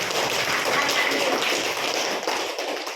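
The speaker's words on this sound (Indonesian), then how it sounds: "Kasih dulu tepuk tangan kelompok pertama" Students in a classroom applaud the first group after its presentation. The clapping is brisk and crowded for about three seconds, then thins out at the end.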